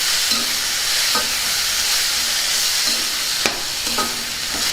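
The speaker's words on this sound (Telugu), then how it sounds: "ఇప్పుడు టమాటా ముక్కలు వేసేసుకుందాం ఒకసారి బాగా కలుపుకుందాం" Tomato pieces added to onions frying in a pan and stirred, giving a loud continuous sizzle with periodic scraping and clinking of the spoon against the pan.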